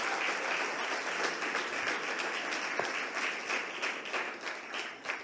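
A church congregation applauds the young people, a steady dense wash of many hands clapping that holds throughout with no pause.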